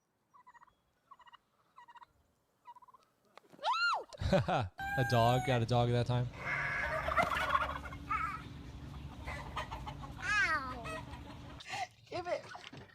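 Turkeys gobble loudly and repeatedly at close range, with clucks and warbling calls mixed in at a busy live event. Someone talks between and over the bird calls.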